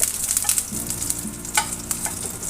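Greens with garlic and jackfruit seeds sizzle and crackle steadily in a hot pan, a close, loud frying hiss with occasional stirring scrapes and no voices.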